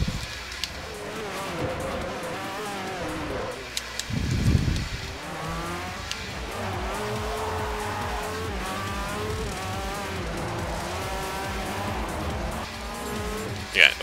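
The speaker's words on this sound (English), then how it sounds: "Why am I racing in the sand?" A race car in Forza Motorsport 4 roars through gear changes with rising and falling engine pitch and bursts of tire squeal, a rough sandy rumble midway, steady and close throughout.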